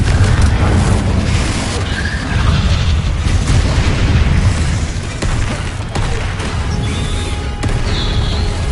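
Booming spell explosions from a Hogwarts Legacy battle, with dense, continuous blasts and crackling bursts layered over rumbling game effects and sound throughout.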